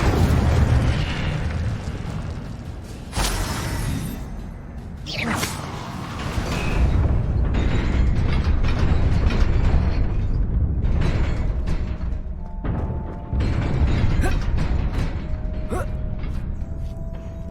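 An Incendio fire spell cast in Hogwarts Legacy on PS5, a loud burst and whooshing roar of flame amid rumbling, creaking game effects, with further impacts and mechanical sounds that follow.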